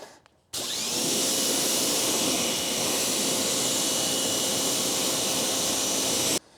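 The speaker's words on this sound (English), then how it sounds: "All right, let's give him a good rinse down now." A pressure washer blasts a steady, loud, close hiss as it rinses a car in winter, starting abruptly after a brief quiet moment and cutting off sharply near the end.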